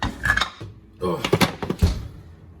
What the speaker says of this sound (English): we're gonna take these out of the oven